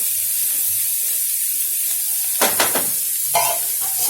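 Cabbage frying in oil in a covered pan, a faint steady hiss broken by two short bursts of louder sizzling and crackle.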